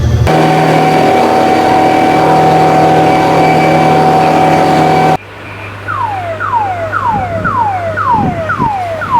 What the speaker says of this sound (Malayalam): ഇവർ പോലീസിൻ്റെ സൗണ്ടൊക്കെ ഇട്ടിട്ടാണല്ലോ പോകുന്നത്.